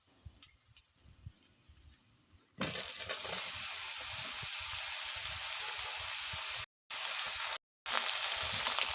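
Washed winter vegetables, including cauliflower and eggplant, hit onions frying in hot oil, setting off a loud, steady hiss and sizzle that runs on after a quiet start, broken briefly twice by short silences.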